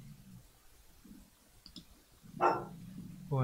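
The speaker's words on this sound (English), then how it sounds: "that's my dog in the background, by the way, if you can hear growling and barking" A dog barks a few times in the background of a quiet room, with faint clicking beforehand and one louder bark toward the end.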